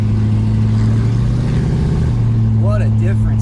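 A 1964 Dodge Polara 500 big block V8 with nitrous, driven on a back road highway, drones loudly and steadily close by with strong low harmonics, rising slightly as it accelerates while someone speaks over it.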